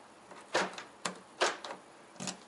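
Newly cut car key sliding into and turning in a car door lock, giving several short, sharp metallic clicks and rattles spaced about half a second apart, close and fairly quiet with no talking.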